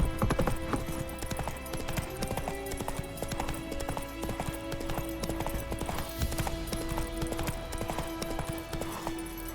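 Roach the horse gallops in The Witcher 3, a steady, rhythmic run of hoof clip-clops over a busy game soundscape with music, and a brief whinny now and then.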